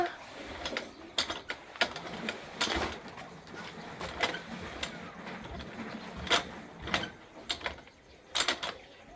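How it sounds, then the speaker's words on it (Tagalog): An old water pump being started gives repeated mechanical clicks, ratcheting knocks and scraping metal bursts in an irregular rhythm, close and moderately loud, with no talk. "Medyo matagal din pong buhayin na rin bomba namin dahil medyo may kalumaan."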